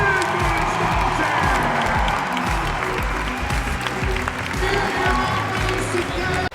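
A loud arena crowd at the 2023 CrossFit Semifinals in Europe cheers, whoops and applauds continuously for an athlete, a dense sustained roar with scattered shouts.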